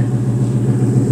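A supercharged 2007 Mustang GT500 drivetrain in a 1967 Fastback restomod rumbles up close in a brief, loud burst with a steady, throbbing low tone and a faint whine above it.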